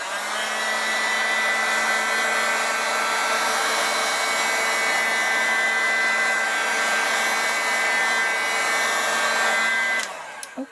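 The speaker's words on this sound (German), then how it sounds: "Ich muss mal eben föhnen." A hair dryer blows with a steady, loud whir that holds at one level for about ten seconds, then cuts off abruptly, leaving a few small clicks. No one speaks.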